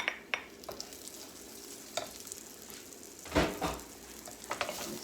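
Vegetables are stirred into rice frying in a pan for a shrimp and rice dish. A steady sizzle runs throughout, with a few sharp utensil scrapes and clanks against the pan, close and without speech.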